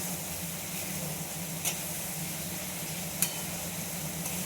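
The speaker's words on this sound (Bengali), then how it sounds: "এটাকে এবার এর সঙ্গে ভালো করে কষিয়ে নেব, মশলাটার সাথে সুন্দর করে ভালো করে এটা" Spices sautéing in a pan give a steady, soft sizzle that holds evenly throughout, with a couple of faint clinks of stirring.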